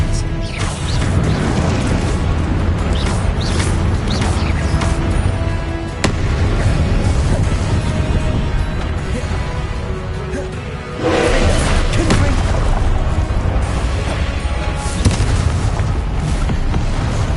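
The Confringo spell goes off in the video game Hogwarts Legacy as loud, dense blasts and crashes, layered over steady game music and effects for the whole span, with a brief dip near the middle.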